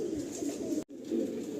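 Pigeons in a crowded loft of over 700 birds at Behala Kabardanga coo in low, throaty rolling calls, close and overlapping, broken by a brief moment of silence before the cooing resumes.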